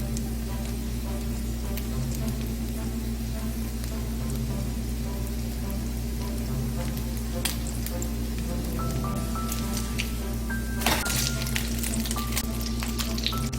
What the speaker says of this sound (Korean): 패티를 올리고 중약불에서 패티를 앞뒤로 노릇하게 구워주세요.